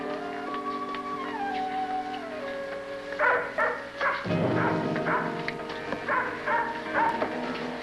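A dog barks fiercely nearby in a house, a run of harsh barks over about four seconds heard over steady background music, as if ready to attack.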